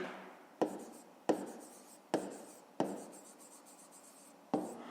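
A pen writes out a math solution on paper in five distinct strokes, each a brisk scratch that fades quickly, close and quiet with no voices.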